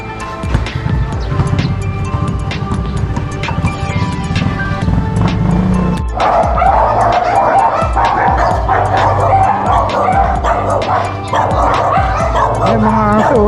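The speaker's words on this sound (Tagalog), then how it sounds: "Ay, mga aso." Dogs bark and whimper close by, repeated yips and whines over steady background noise, with people talking.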